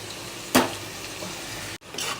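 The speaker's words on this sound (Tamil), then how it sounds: "இதில் போட்டு ஆனியன் இப்போது பச்சை வாசனை போகிற வரைக்கும் நம்ம நல்லா ஃப்ரை பண்ணணும்" Ground onion paste frying in oil for kalan gravy makes a continuous low sizzle. A sharp scrape or stirring clatter sounds near the start, and a short break in the noise comes just before the end.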